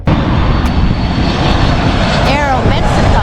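An Aeromexico airliner passing close by near LAX airport, a loud continuous engine roar with a dense low rumble, while people talk over it.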